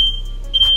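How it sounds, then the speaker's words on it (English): A smoke alarm beeps in a home sauna setting: a steady piercing high tone sounds loudly, briefly breaks, then resumes, with no talking over it. "Oh, the smoke alarm."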